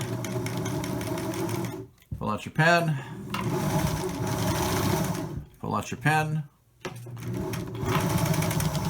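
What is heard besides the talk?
sewing machine stitching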